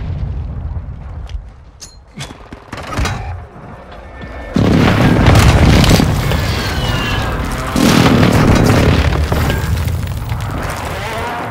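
Precision airstrike explosions in Call of Duty: Modern Warfare II, loud heavy booms hitting one after another with deep rumbling tails, preceded by scattered gunshots and a quieter lull.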